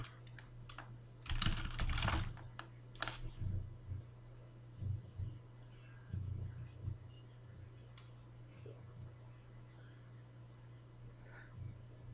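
Someone types a password on a computer keyboard during an Ubuntu install in a VMware virtual machine, giving a quick flurry of soft clicks followed by scattered single taps over a steady low electrical hum.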